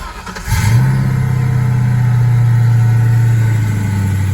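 A 2004 Ford Mustang GT from a restoration project starts moving, its engine swelling from near quiet into a loud, steady drone that holds for several seconds before easing slightly.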